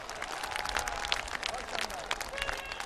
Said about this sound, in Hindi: जिसको आपने तालियों के गाजे बाजे के साथ उसका स्वागत किया।